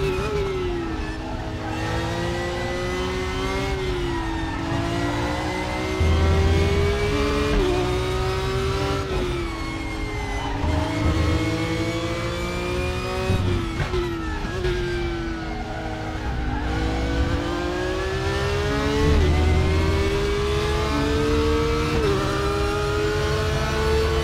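An Audi DTM race car in the RaceRoom racing game at Oschersleben screams loudly through repeated upshifts and downshifts, engine pitch climbing and dropping in a steady rhythm, with tire squeal under it and no talk.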